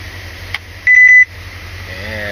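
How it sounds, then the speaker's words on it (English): A single short electronic beep sounds clearly over a low engine hum, lasting well under half a second. "every time you hear that beep there"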